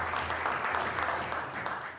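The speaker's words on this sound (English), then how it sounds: "I ask all members to join me in applauding these dedicated volunteers." Applause from members in the Newfoundland and Labrador House of Assembly chamber, a dense, steady wash of clapping from many hands at moderate volume.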